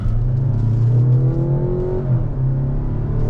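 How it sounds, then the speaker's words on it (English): Mazda CX-90 PHEV engine droning loudly under hard acceleration from inside the cabin, a steady, strained roar with rising pitch, no talking. "it can definitely be noisy during hard accelerations like we're doing now"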